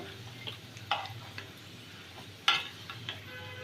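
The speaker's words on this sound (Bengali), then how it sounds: "এই কাবাবগুলি মোট 7 থেকে 8 মিনিট উল্টে পাল্টে ভেজে নিব।" Chicken kebabs fry in a pan in a home kitchen, giving a soft, low sizzle broken by a few sharp clicks and spits, with no talking.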